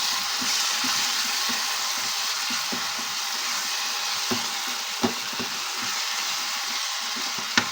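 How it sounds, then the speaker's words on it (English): Rice boiling in a pot on a farm cooking setup, a steady broadband hiss of bubbling water with scattered soft pops and crackles running throughout, fairly close and continuous with no talking. "we have rice boiling over here that you're going to take with the fish"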